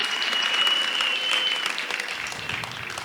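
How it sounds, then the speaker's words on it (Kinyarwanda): Sustained applause from a comedy show audience, a steady dense wash of clapping that carries on throughout and thins a little toward the end. "Amashyi menshi, ladies and gentlemen"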